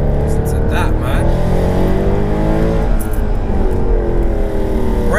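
A tuned Mercedes C63 AMG with 530 bhp revs hard while driving, its loud engine note rising and falling in pitch from inside the car, with people talking over it.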